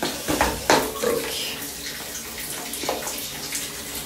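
A shower runs with a steady rushing hiss of water, with a few splashy bursts near the start and a voice faint underneath.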